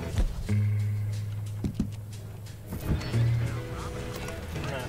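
A horse in the video game Red Dead Redemption 2 whinnies and snorts while hooves clip-clop, with soft brushing sounds and someone talking over it.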